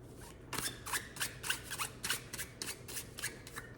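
A tarot card deck being shuffled, a rapid run of crisp riffling bursts up close, fairly quiet and with no talking.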